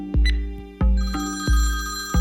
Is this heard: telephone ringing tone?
yes